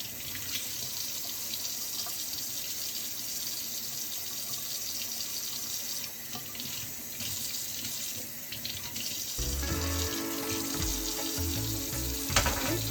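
Running tap water pours continuously into a sink while a yam is washed under it, a steady close rushing splash that grows fuller and heavier toward the end, with no speech.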